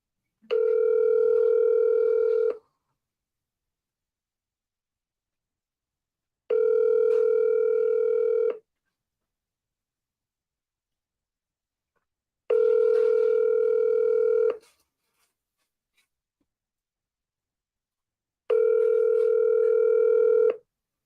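A telephone line gives a steady tone that sounds in four even bursts of about two seconds each, spaced roughly six seconds apart, clear and alone with no voices.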